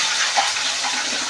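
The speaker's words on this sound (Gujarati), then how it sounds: "પાણી એડ કરી દીધું છે" Water is poured into a pan of hot tempering with curry leaves and chillies for khaman, giving a brief, steady splashing hiss.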